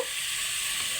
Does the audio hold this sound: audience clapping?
no